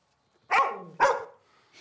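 A dog barks twice in quick succession, two sharp, close, loud barks about half a second apart, followed by a faint start of a third.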